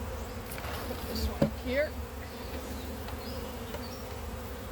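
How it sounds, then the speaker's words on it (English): Honey bees in an opened hive during a hive split give off a loud, constant, close buzz, with a short clunk of hive parts and a brief spoken remark over it. "Now this is loaded with bees."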